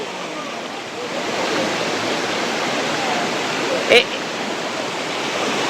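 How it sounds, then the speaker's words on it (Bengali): Turga Falls pours down in a steady, dense roar of falling water, heard close and loud throughout, with one brief knock near the end. "আর এই জল নামছে"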